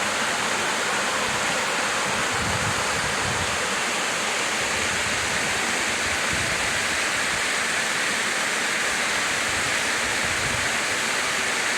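Water spills over Bonita Falls, a loud, unbroken roar of falling water heard up close at the lip of the waterfall, steady and dense throughout with no voices.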